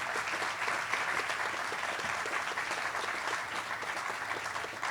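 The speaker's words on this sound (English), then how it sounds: "let's give a round of applause to our world-class physicians and our team members" Audience applause at an emergency center groundbreaking ceremony for Raritan Bay, continuous clapping from a crowd, fairly distant and soft but unbroken.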